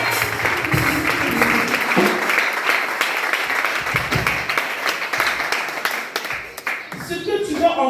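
A congregation claps and cheers to acclaim God at an evangelistic church gathering in Divo, a dense, steady wash of applause lasting throughout, with voices mixed into the crowd noise.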